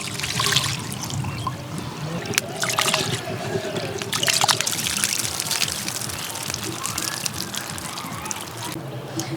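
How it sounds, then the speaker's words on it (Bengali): Rice being washed in water, with sloshing, trickling and pouring sounds close by, a little clatter, and a soft voice briefly underneath. "চালটা ভালো করে ধুয়ে ভিজিয়ে রাখবো।"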